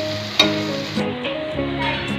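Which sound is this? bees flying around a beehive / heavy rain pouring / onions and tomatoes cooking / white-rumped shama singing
onions and tomatoes cooking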